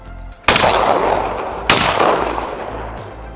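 Two loud shotgun blasts at a skeet shooting range on a Breckenridge mountain ranch, about a second apart, each with a sharp crack and a long outdoor echo fading away.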